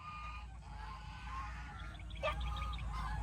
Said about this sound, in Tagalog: What is that? Duck!